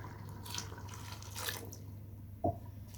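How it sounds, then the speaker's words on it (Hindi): Half a glass of water is poured briefly into a pot of cooking moong and masoor daal, a soft splashing burst against a quiet background hum. "तो मैं इसमें 1/2 गिलास पानी लगा रही हूँ।"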